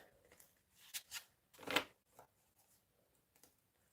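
A new deck of large, thick cards is shuffled by dropping them, giving a few quick papery riffles and soft slaps, close but quiet, with near silence between bursts.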